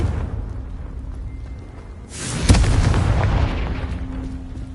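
Confringo spell blast in the Hogwarts Legacy video game, a sudden whooshing burst with a sharp crack followed by a rumbling boom that slowly fades, set against a low background hum.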